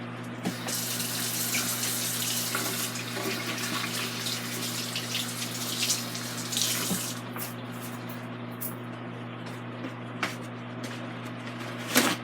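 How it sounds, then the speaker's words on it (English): A kitchen tap runs steadily as hands are washed beneath it, a close, continuous splashing hiss over a faint low appliance hum from an Instant Pot, with no talking. "Let me wash my hands."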